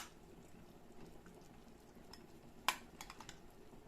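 A pot of thick tomato and bell pepper sauce simmers with soft, steady bubbling and popping, joined by a sharp clink of a utensil partway through.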